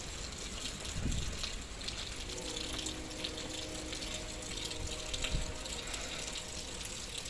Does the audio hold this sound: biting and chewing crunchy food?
no